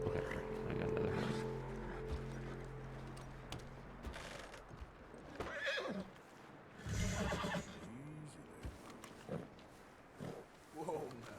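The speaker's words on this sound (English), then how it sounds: "Okay, I got another horse." A horse in the Red Dead Redemption video game gives a few short, faint neighs and snorts amid game sounds, while someone talks over them.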